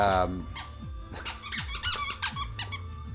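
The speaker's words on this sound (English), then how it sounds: "why with the squeak toys? Could you chew on a different toy right next to me?" Lilith, a dog, chews a squeaky toy, producing repeated sharp squeaks in an uneven rhythm close by, with game music and a person's voice in the background.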